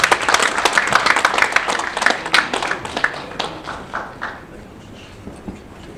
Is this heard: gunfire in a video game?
no